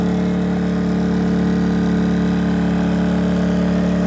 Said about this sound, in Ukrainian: Дали нагрузку, він от у нас працює отак от. Трошечки шумніше.